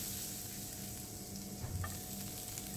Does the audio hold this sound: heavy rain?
no